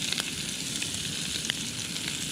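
Chili frying in a pan at a camp on a deserted island, a steady close sizzle broken by a few sharp pops and light stirring scrapes.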